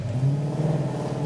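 A Dodge Challenger's engine drones steadily while driving, a low, even hum from inside the car with no talking.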